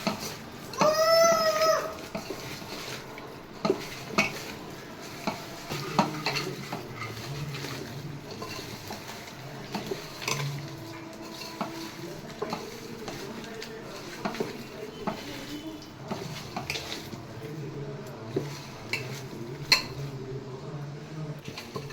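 A chicken dum biryani mixture with fried onions is stirred in a pot, giving soft, irregular scraping and clinking under a quiet kitchen background, with a brief high squeak near the start.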